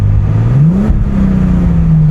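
A Bentley Continental GT engine rises in pitch as the throttle opens, then settles into a steady hum, loud and close with no talking.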